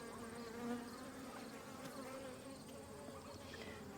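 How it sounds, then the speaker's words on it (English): Bees swarm around a hive, a dense steady buzzing drone of many insects, close and continuous at a low level, with individual wingbeats rising and falling through the mass. "This is full of bees."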